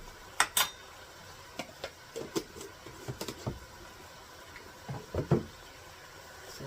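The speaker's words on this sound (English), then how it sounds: "we're going to kind of stir that in with the onions and the burger" Spoon scraping and clinking against a pot while garlic is stirred into onions and ground beef, scattered metallic knocks over a faint sizzle, no talking.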